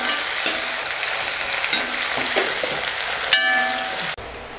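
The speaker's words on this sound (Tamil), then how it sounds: "சின்ன வெங்காயம் சேர்த்துற மாதிரி இருந்தால். போட்டு நல்லா வதக்கிக்கலாம்." Small onions (shallots) sautéing in hot oil for wheat upma give a steady, close crackling sizzle with stirring, which shifts briefly near the end and then drops off abruptly.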